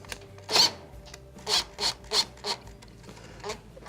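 Screwdriver tightening a screw to mount a new thermal fuse on a Whirlpool stove, about six short scraping turns in quick succession, close and fairly quiet with no voices.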